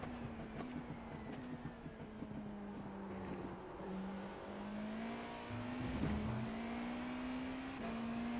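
Race car engine in the iRacing sim racing game at VIR, a steady, fairly quiet drone with a sustained pitch that rises and dips slightly through shifts, continuous with no talk.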